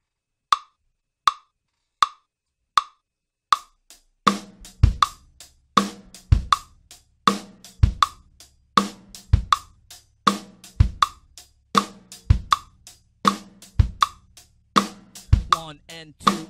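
A bright ticking click keeps steady time alone, then deep thumping kick drum hits join in a repeating, uneven pattern beneath the clicks and snappy accents.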